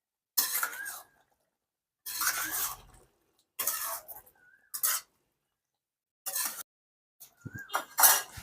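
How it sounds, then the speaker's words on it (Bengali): A spoon stirs a pot of fig curry after sugar is added, giving several separate bursts of scraping and clinking against the metal pot with silent gaps between them, close and clear. "দিয়ে নেড়ে নেড়ে চেড়ে একটু ফুটাবো"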